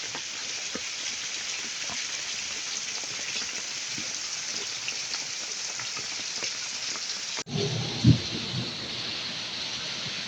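Steady morning rain falls over a home garden with flowering plants, a dense even hiss of drops on leaves and surfaces, followed near the end by a short low rumble.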